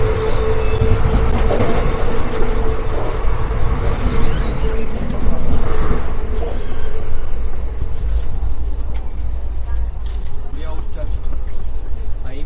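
Interior of a moving Delhi-Agra passenger train carriage, a loud continuous low rumble and rattling of wheels and wagon throughout, with voices talking over it.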